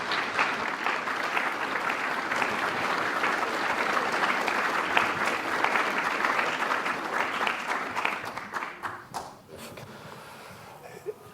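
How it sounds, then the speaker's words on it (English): Sustained audience applause at a book launch presentation, a dense steady roar of many hands that thins and tapers toward the end with a few scattered claps. "So please give a big round of applause to Mr."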